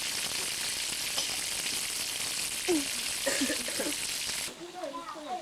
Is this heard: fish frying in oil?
yes